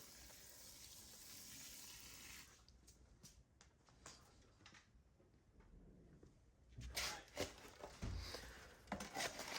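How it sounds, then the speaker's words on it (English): Water pours and gushes into a concrete mix, a soft steady stream, then scraping and sloshing as the concrete is stirred, quiet and close. "Then we began adding water and mixing it up."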